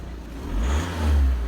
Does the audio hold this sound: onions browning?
no